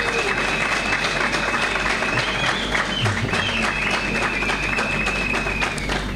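Loud, steady applause and clapping from an audience in a hall, honoring Salomão Moiana at a political party speech event, continuous throughout with crowd murmur and a faint voice mixed in.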